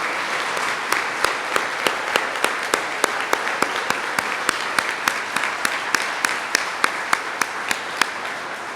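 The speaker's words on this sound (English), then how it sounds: "Let's give them a huge round of applause." A banquet audience at a senior athletics awards event applauds for honored athletes, a loud, sustained wash of clapping with one nearby clapper's sharp, evenly spaced claps standing out in a steady rhythm.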